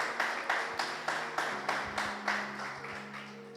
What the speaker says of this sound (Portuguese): Aplauda o Senhor, amado, pela sua palavra.